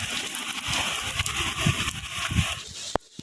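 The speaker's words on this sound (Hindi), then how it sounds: "अच्छी वाली बारिश हो रही है" Steady rain falls outside a balcony in the early morning, a soft, even hiss of drops with a few low splashes and knocks. It sounds moderately close and continues without pause.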